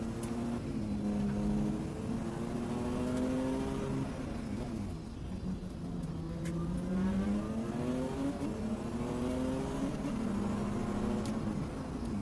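Race cars lapping a full international circuit during a Clubmans race, the playback sped up, produce continuous engine drone with rising and falling pitch as cars accelerate and pass, fairly distant and without talk.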